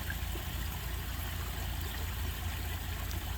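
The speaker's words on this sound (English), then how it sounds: "just sit here on the deck and just watch the waterfall and listen to it" A waterfall pours steadily, heard from a nearby deck as a constant broadband rushing wash with a low rumble and no talk.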